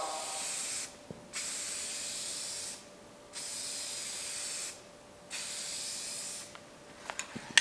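Tint sprayed in light, even coats onto the tail light of a Ford F100 Dentside truck, three long steady hissing bursts separated by short pauses, then a few faint clicks.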